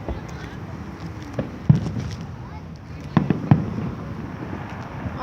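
Fireworks bursting outdoors near a road, heard as a few scattered muffled booms at a distance over steady background noise, with people talking faintly in between.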